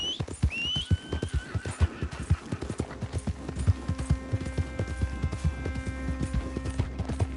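Horse hooves clip-clop in a steady galloping rhythm with occasional whinnies, ridden through the open country of the video game Red Dead Redemption 2, loud and close, with no talk.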